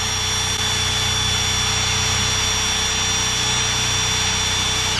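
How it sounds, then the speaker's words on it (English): A power drill whines steadily at full speed while a spinning wire brush scrubs rusty steel posts before welding, loud and close with no break. "I've got a wire brush hooked up to the end of my drill"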